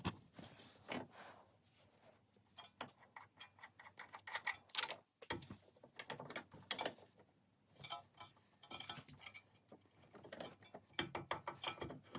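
A ratchet tightens the nut and bolt on a BMW front control arm, quick repeated clicking bursts in short runs with brief pauses, close and loud with no talk.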